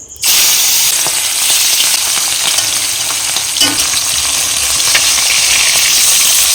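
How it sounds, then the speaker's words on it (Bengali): Hilsa fish pieces sizzle steadily in hot mustard oil in a kadai, a loud, continuous bright crackle holding from start to end with a small pop midway. "এবার মাছটা দিয়ে হালকা ফ্রাই করে নেব"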